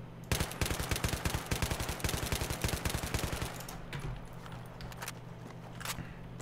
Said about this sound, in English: with any assault rifle you're going to have to burst fire at long ranges